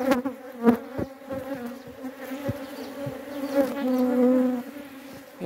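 Honey bees buzz close and dense around an opened beehive. Individual bees hum and drone past near the listener, with no talk.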